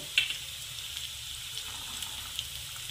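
Onion, green chili and peas frying in a pan for rava upma: a soft, steady sizzle with faint crackles and an occasional tap or stir, fairly quiet and close, with no talking.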